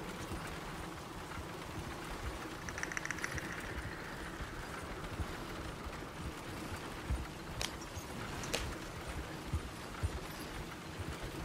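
Horse hooves clip-clopping steadily along a road in the video game Red Dead Redemption 2, a continuous even rhythm set in a dense outdoor ambience, with a few sharper clicks and no talking.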